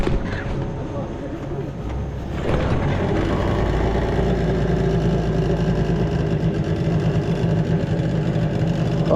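A boat engine idles with a low, steady rumble after starting up, running continuously and close by with a slight mechanical rattle.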